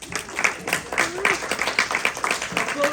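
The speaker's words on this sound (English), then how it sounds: "let's give a round of applause" An audience claps at a presentation on Final Five Voting, a lively run of overlapping handclaps under a speaker's voice.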